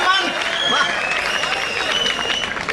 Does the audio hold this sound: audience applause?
yes